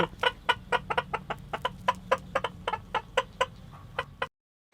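Chickens cluck in a steady run of short, close calls, one after another, then the sound stops abruptly.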